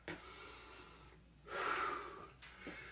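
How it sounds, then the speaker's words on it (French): Heavy breaths during a home workout cool-down: a short inhale near the start, then a long, loud, drawn-in breath followed by a couple of quicker gasps, close to the mic with no talking. "Prends le temps de mon inspiration."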